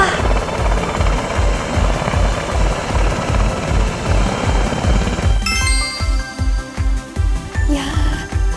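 An SH-60K naval helicopter thunders close by, its rotor thumping in a fast, steady beat. Partway through, faint tinkling and a voice join the engine roar.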